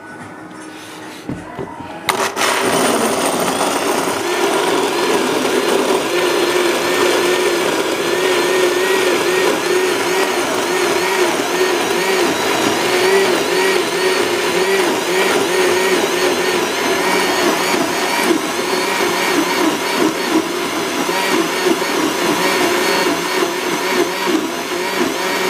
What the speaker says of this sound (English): this blender is the strongest blender I see for a very long time